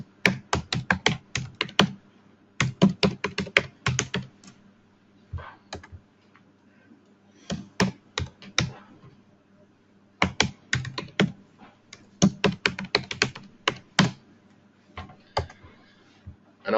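Computer keyboard typed in quick bursts while logging in with a password, close clattering keystrokes separated by brief pauses.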